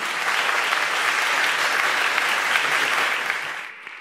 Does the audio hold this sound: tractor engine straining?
no